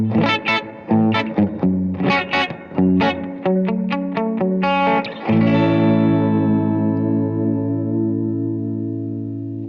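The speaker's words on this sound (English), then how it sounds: "It's pretty much a really wet spring reverb." Electric guitar through a very wet spring reverb preset called up with a Morningstar MC3 MIDI controller, a run of plucked notes and chords ending on a long ringing chord that washes out and decays slowly.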